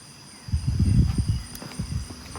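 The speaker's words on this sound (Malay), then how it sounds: "Bunyi tapak kaki binatang masalahnya" Soft, irregular animal footsteps on the ground at night, a cluster of low, muffled thuds over steady background hiss, fairly close.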